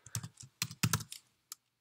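Menu items are typed on a computer keyboard, with clusters of close, crisp key clicks, short pauses between bursts and one final isolated tap.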